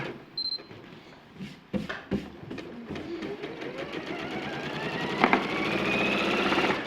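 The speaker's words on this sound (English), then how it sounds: "So now, how are you sewing them together in threes?" A sewing machine stitches fabric pieces together in a steady mechanical whir that follows several sharp clicks and knocks, running continuously and moderately loud to the end.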